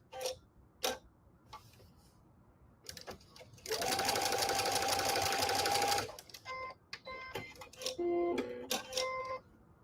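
A sewing machine runs a quarter-inch quilt seam in one steady whirring burst of a couple of seconds, framed by sparse clicks and taps before and after, close and fairly quiet with no talk.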